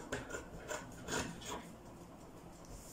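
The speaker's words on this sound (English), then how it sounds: "I'll cut the excess here as well" Scissors cutting excess non-stretchy fabric while making a turban cap, giving a few short rasping snips close up in the first half, then quieter.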